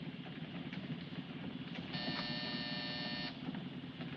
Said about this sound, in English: Hit that buzzer.